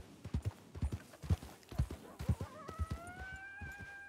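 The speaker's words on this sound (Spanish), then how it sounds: "Vale, son caballos." Horse hooves clip-clop in a steady walking rhythm in Red Dead RP, loud and close, with a brief whinny-like tonal cry near the end.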